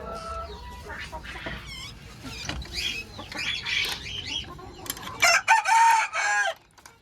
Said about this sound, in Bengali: এটা হচ্ছে আপনার সাদা দেশি মোরগ, গলা ছিলা